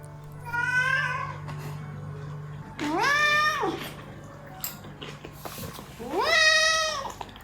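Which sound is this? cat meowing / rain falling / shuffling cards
cat meowing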